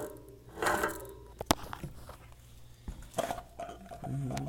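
A stripped bicycle freehub gives off scattered mechanical clicks and rattles as the wheel is handled and spun, close and fairly faint, with brief knocks among them.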